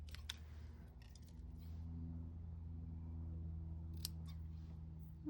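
Scissors trimming a paper card for a dark beach wave design, with several crisp close snips early on and again near the end over a quiet, steady background hum.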